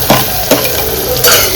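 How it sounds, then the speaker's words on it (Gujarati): Onions fry with garlic in a pan, a loud, steady close sizzle with a few short scraping stirs through it. "આપણે કાંદા નાખી દીધા છે. કાંદાને થોડીક વાર ચડવા દઈશું."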